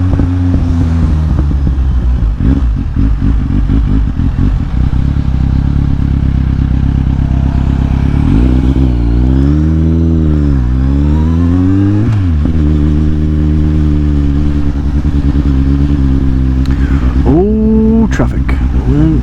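A motorcycle threads through city traffic around Toulon in south-east France, its engine loud and close, with repeated revving sweeps that rise and fall over a constant road and wind roar.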